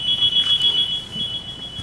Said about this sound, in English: That timer should have went off during the parks presentation.